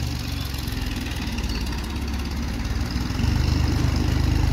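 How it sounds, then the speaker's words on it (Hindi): A tractor loaded with mud at a house-filling site chugs steadily nearby, a low throbbing engine that grows slightly louder and rougher near the end as it pulls away. "फ्रेंड्स, ये ट्रैक्टर भी निकल चुका है लोड होकर।"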